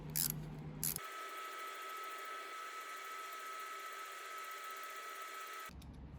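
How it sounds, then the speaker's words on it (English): A lathe power tapping an M4 screw thread, a steady whining motor hum with a bright mechanical tone holding for several seconds, with short clunks at the start and end as it engages and stops. "We'll power tap this one to get it started"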